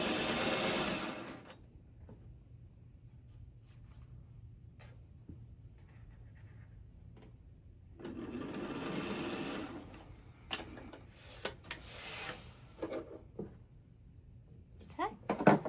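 A home sewing machine whirs in two short bursts while stitching a quilt block seam, close and clear, with quiet gaps, small handling clicks and a voice talking between runs.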